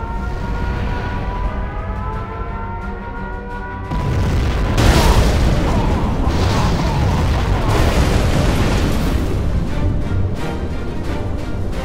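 A nuclear missile strike in Command & Conquer Generals Zero Hour lands with a sudden loud boom, followed by a long roaring rumble of blast and debris that stays heavy for several seconds.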